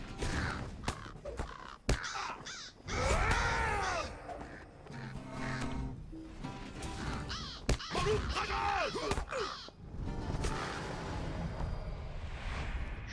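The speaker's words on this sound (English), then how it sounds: "Get rid of some evil birds." Crows cawing on Weathertop in the video game Lord of the Rings Online, several harsh, repeated caws scattered across the clip amid game combat thuds and creaks.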